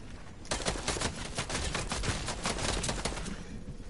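Rapid, dense gunfire in a video game starting abruptly after a moment of quiet, a sustained crackling volley of shots that keeps going steadily to the end with no speech.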